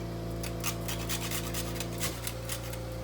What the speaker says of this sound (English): this is a whole nutmeg seed. I'm going to grate it on my grater into this